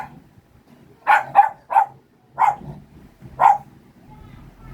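Several agitated dogs bark about five times at uneven intervals, short sharp yaps at moderate distance over low, quiet background noise.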